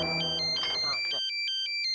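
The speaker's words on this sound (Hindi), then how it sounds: "एक मिनट, फोन आ गया" A mobile phone ringtone plays: bright, repeating electronic beeps that continue on their own after a voice stops partway through, set in a busy street scene from the Taarak Mehta Ka Ooltah Chashmah comedy.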